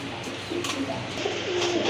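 Black Rajgolla pigeons give soft, low cooing calls in short repeated phrases, fairly close, against a busy background hum with no talk.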